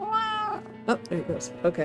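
A pet cat meows, with a clear, drawn-out tonal call at the start, followed by a person speaking and a few shorter sounds close to the microphone.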